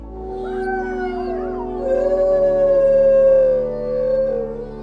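A Siberian husky howls in a long, wavering, sliding tone, loud and close, rising and falling over several seconds without other sounds.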